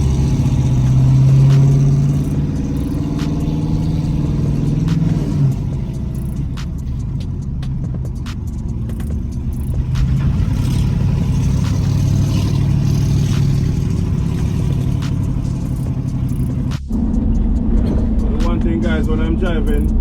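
A car's engine hums low and steady from inside the cabin while driving, with a few swells of throttle and a dip near the end, as someone talks over it throughout.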